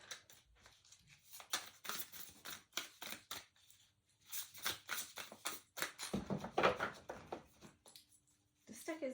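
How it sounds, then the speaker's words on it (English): A tarot card deck being shuffled by hand, a series of crisp papery riffles and flicks in uneven bursts with short pauses between, close and fairly quiet. "This deck is difficult to shuffle."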